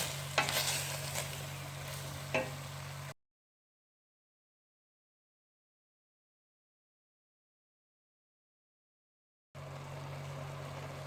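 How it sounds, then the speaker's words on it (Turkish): Chicken and potatoes sizzle in a pan while being stirred for a Turkish chicken sauté, a steady close frying hiss with a few scraping knocks, broken by a long silent gap. "Bir 2-3 dakika patatesle beraber pişiriyorum."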